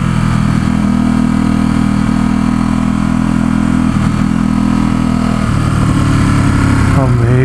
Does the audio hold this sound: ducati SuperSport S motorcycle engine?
yes